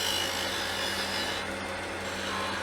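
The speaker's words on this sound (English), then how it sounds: "to go ahead and hollow out the top of this lid just a little bit here" A wood lathe spins as a tool hollows the top of a wooden Christmas tree box lid, a steady close whirring hum with soft scraping texture, no speech.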